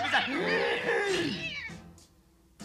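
A cat lets out a long, drawn-out, wavering meow, loud and close at first, then fading to quiet with brief faint noises after, in a Dutch-dubbed Smurfs cartoon.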